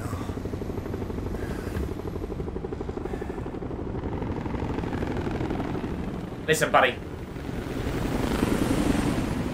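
A helicopter in the PSVR game Blood & Truth produces a steady, low rotor rumble throughout, with a voice speaking briefly over it and a short sharp burst near the end.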